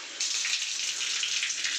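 Water runs from a tap in a house, making a steady, even rush that starts suddenly and continues without a break, close and moderately loud, with no voices.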